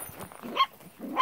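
Sheltie puppies out in the Alabama Hills give two short, sharp yips or barks about half a second apart, with softer whimpering and rustling between them, close by.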